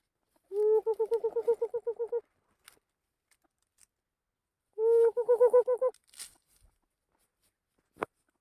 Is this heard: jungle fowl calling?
yes